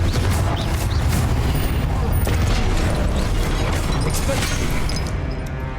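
Confringo blasting spell cast in Hogwarts Legacy, a dense burst of explosive booms and crackling blasts over steady loud game noise, with no talk.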